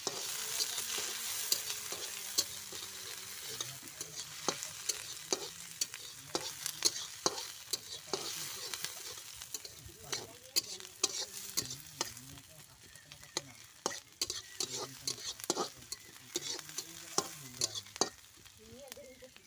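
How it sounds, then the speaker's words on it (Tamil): Onions and curry leaves sizzle in hot oil for an egg curry while a spoon stirs them, steady frying hiss punctuated by frequent scraping clicks against the pan, close and continuous. "வெங்காயமும் கருவேப்பிலையும் சேர்த்துட்டு இப்போ நம்ம கிளறி விட்டுடலாம்"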